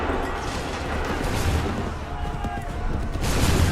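Musket volleys crackle and boom in Assassin's Creed 3, a dense burst of overlapping shots with rumbling low thuds, mixed with shouting voices amid the battle.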